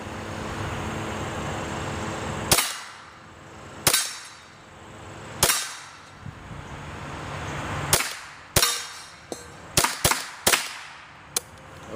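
Remington Golden Bullet rounds fired from a gun, about eight sharp, loud reports at irregular intervals, some spaced seconds apart and others in a quick cluster near the end, each ringing briefly outdoors.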